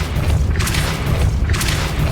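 A Depulso force spell goes off in a Harry Potter video game, two heavy booming blasts with whooshing bursts about a second apart, loud and close.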